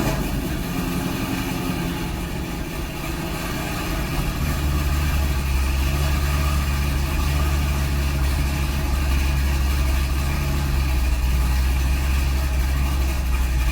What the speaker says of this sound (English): Here's a cold start, as you can see by the coolant temperature gauge.